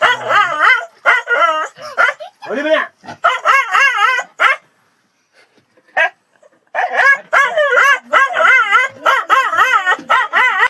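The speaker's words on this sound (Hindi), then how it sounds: "ये रहा हमारा डॉगी भाई। एक दो डॉगी भाई है मेरा।" Dogs in a village bark and yip in repeated bursts, fairly close and loud, with a short quiet gap midway before the barking resumes.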